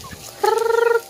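A single loud bird call rings out up close on a chicken farm, a bright, harmonic squawk lasting about half a second over quiet background.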